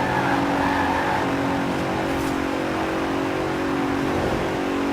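A 2017 Bentley Continental GT Supersports grand tourer in Forza Horizon 4 holds a steady, loud engine drone with layered harmonics, cruising under sustained power for the whole stretch with no talk over it.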